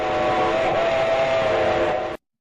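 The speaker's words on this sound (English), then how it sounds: "It was probably just a passing train" Train whistle sounding loudly and steadily over the rumble of a passing train, cutting off abruptly after about two seconds, in a Thomas the Tank Engine themed Bachmann model railway series.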